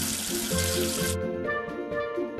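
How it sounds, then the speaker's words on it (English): Running tap water splashes steadily over soapy hands in a children's learning game, a loud continuous rush that stops abruptly partway through, leaving soft watery trickles and gentle tones. "Wash away the soap with water."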